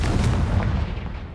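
Confringo explosive spell in Hogwarts Legacy, a heavy booming blast with a deep rumbling tail that slowly decays, loud and close with no voices over it.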